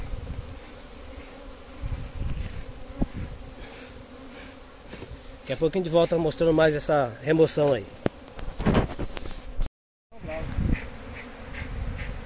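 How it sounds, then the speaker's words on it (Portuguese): A dense swarm of Apis mellifera honey bees drones loudly during a hive removal, the buzzing swelling into a thick, close roar in the middle before a brief cut to silence; someone speaks Portuguese over it. "Muita abelha."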